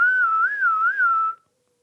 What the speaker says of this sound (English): That was a good whistle.